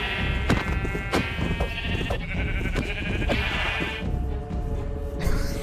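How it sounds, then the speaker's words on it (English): Strange multiplying sheep in the survival horror game From The Fog bleat again and again in a loud, overlapping chorus, with sharp repeated cries over a dense, busy game backdrop. "No, that's not a normal sheep."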